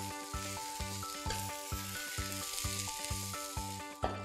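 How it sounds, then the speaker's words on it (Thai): Taro roasted in oil stirred into rice in a hot pan for a meatless Thai taro rice dish, a steady loud sizzle with regular scraping stir strokes about every half second. "ก็ใส่เผือกที่เราคั่วกับน้ำมันไว้ลงไปเลยค่ะ ก็คลุกเคล้าให้เข้ากันนะคะ"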